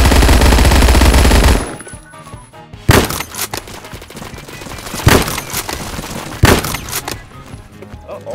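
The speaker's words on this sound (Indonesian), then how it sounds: "jangan berhenti nembak kalau musuhnya belum mati" PPSh submachine gun firing in Roblox Phantom Forces: a loud sustained burst at the start, then several separate sharp shots spaced out over quieter game background.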